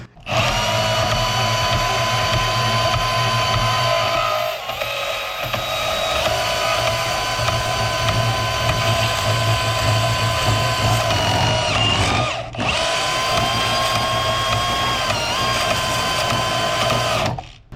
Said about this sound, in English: I'm going to take a porta band and just cut these nubs off.